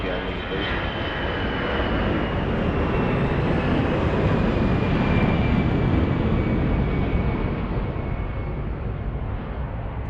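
An airliner takes off at Lisbon Airport with a loud, steady jet roar that fills the whole stretch, rising slightly in the middle and holding without a break.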